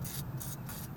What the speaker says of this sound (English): So let's get our gunk. Some gunk spray here.